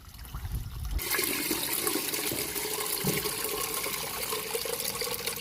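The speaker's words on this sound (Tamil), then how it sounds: "நல்லா தண்ணி ஊற்றி நல்லா அலசி எடுத்துக்கிறோம்" Water gushes steadily into a pot of rice being washed for pulao cooked over a wood-fired stove, a loud continuous pour that starts abruptly after a moment of low rumble and runs without pause.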